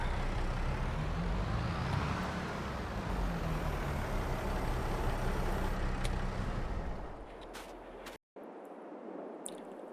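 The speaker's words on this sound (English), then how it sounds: "And turn this tractor off." A tractor engine in Farming Simulator 22 rumbles steadily at close range, then winds down and cuts out near the end, leaving a brief silence and light ambient noise.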